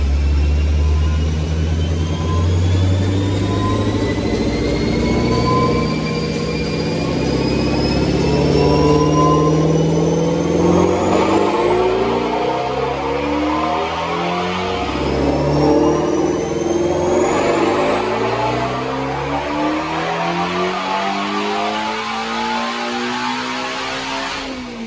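A supercharged 350 engine strapped to a dyno roars continuously and loud up close, climbing in pitch through a long pull with a rising supercharger whine, dipping briefly and climbing again without any talking.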